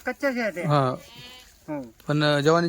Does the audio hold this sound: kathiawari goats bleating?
yes